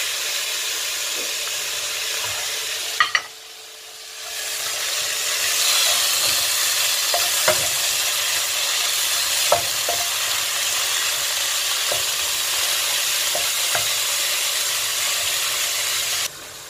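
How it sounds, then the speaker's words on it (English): Mushrooms with minced garlic sauté in a pan, giving a loud, steady sizzle, briefly dropping away once, then returning with occasional light clicks of a utensil, close up and with no voices. "now that we've got the mushrooms nicely sauteed and cooking down"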